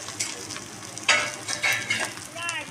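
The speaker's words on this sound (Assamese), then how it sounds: "একদম আধা ঘণ্টা সময় মই ভাজি ল'লোঁ দেই বুটৰ হালোৱা।" Chana dal halwa is fried and stirred in a pan, a quiet sizzle broken by a few short scraping strokes of the spoon, no talking.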